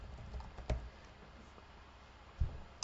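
Typing on a computer keyboard while editing game files, a few faint scattered key taps with a couple of sharper strokes, quiet and sparse in a nearly silent room.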